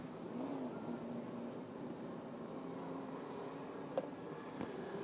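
Big 8 Series race cars at Rockford Speedway on a green-flag start, engines droning at a distance in a continuous low roar with faint rising pitch sweeps and a couple of brief clicks.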